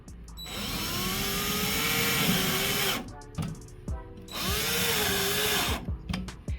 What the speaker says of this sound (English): you're going to need a drill for this because they are self-tapping